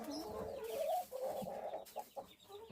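Hens cluck and murmur nearby in a henhouse being cleaned, short uneven bursts, a soft chorus of several birds close to the listener.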